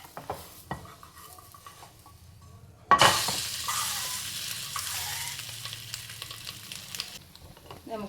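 Bread with egg and onion fries in a pan, quiet scraping at first, then a sudden loud sizzle that bursts in and holds steady, close and without talk.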